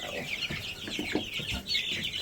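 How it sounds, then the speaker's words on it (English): Broiler chicks being handled give busy, close clucks and chirps that overlap continuously, mixed with soft rustling. "Cute little chick."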